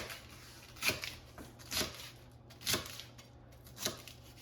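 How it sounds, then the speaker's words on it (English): A knife slices through red cabbage on a cutting board: four distinct crisp chops, evenly spaced about a second apart, close and clear over a faint steady background hum. "I'm going to slice the cabbage. So just cut it and then cut it into slices like that"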